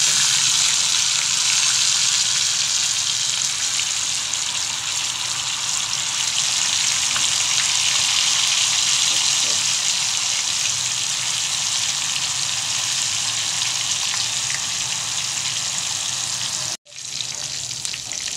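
Tofu fries in hot oil for pork adobo, a steady loud sizzle and crackle throughout that cuts off abruptly near the end before resuming faintly.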